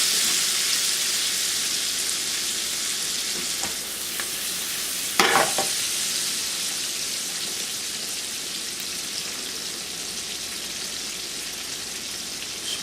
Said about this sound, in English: In some of the drippings in the pan that the bacon was cooked in.